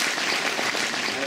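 Warm audience applause at a seminar, a dense, steady wash of many hands clapping at once, fairly loud and continuous throughout.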